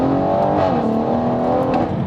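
A BMW M140i hot hatch accelerating hard up to the national speed limit, its engine note loud and close, rising steadily in pitch as revs climb, with no talk over it.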